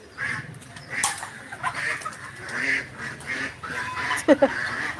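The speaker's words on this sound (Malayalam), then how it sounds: "താറാവ്" Ducks quacking in bursts at close range on a farm, several birds calling over each other with a couple of sharp honks near the end.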